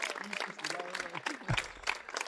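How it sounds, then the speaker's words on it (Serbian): Audience applause for the red team at a live debate event, a dense wash of clapping rising to a fuller burst midway, with a voice speaking over the start. "u to ime ja vas pozivam jedan aplauz za crvenu ekipu"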